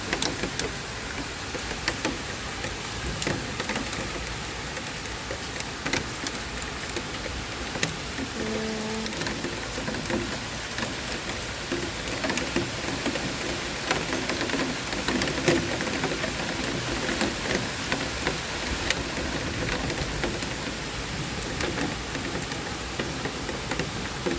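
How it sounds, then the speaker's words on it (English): Large hailstones falling outdoors in Minnesota in June, a dense, steady broadband patter of many small impacts that continues without a break for the whole stretch. "There's hail falling all over."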